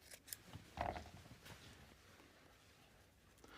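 Scissors trim ribbon tails on a hand-tied wedding bouquet, with a couple of quick, faint snips close by and then quiet.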